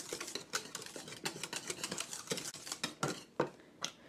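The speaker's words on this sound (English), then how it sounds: "Give it a good whisk." Strawberry pie filling is whisked in a pot, with a quick irregular run of metal-on-pot scrapes and clinks, close and fairly faint, with no talking.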